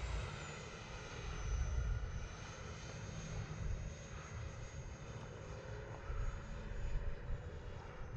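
A small 80mm electric ducted-fan jet roars steadily with a high, thin whine above a rumbling wash of noise, holding at constant strength as an E-flite F-16 Falcon model takes off from grass in the evening.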